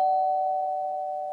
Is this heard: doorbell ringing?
yes